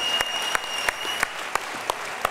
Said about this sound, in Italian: un applauso a Carolina